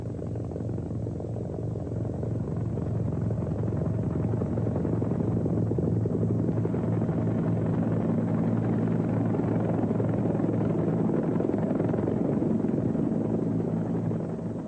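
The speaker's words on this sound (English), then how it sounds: "As soon as the helicopter arrived," A helicopter drones continuously, a loud, close rotor thrum with deep rumble that stays steady throughout.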